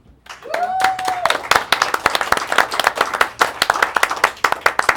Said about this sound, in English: Let's have a round of applause for Jeffrey, please.